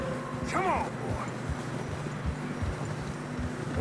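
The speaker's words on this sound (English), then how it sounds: "Horses are getting tired." Horses clip-clop at a slow walk through narrow, fresh-snowy ground in the Red Dead Redemption 2 video game, steady hoof thuds under a rider's voice and faint background music.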